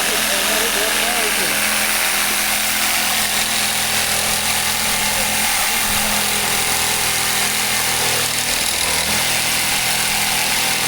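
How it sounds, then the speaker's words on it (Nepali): A power tool, loud and engine-like, drones continuously while cutting timber at a woodworking site, with voices talking over the steady roar. "काठ काट्ने काम भइरहेको छ"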